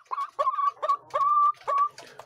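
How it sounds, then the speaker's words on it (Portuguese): Hens give their pre-laying call, a close series of six or so drawn-out, nasal clucking cries in an uneven rhythm, some notes held longer than others. "E também já noto as galinhas cantando, certo?"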